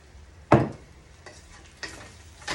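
A North Indian style cauliflower and potato curry is stirred in a pan over a low flame, giving three scraping bursts: a loud one near the start and two softer ones later, over a faint sizzle.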